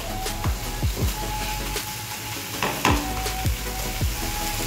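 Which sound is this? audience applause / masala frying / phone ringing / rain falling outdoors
masala frying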